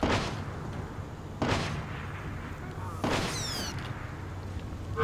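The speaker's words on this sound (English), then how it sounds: "I'm hearing gunfire." Gunfire in the video game Splinter Cell Blacklist, three sharp booming shots spaced over a few seconds, each with a lingering reverberant tail over a low ambient background.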